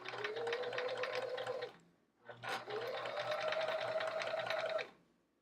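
A sewing machine used for embroidery runs steadily at high speed with a smooth, even hum, pausing briefly before a second long run. No voices are heard.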